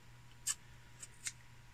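Three short, crisp snips of scissors, one slightly louder than the others, spaced irregularly against a quiet low hum.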